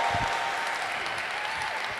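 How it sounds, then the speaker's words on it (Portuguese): Loud sustained applause from a large audience at a Christian faith and parliament gathering, a dense wash of clapping that holds steady throughout without a break. "Cuando decimos fuerte aplauso, es un aplauso con grito, con todo."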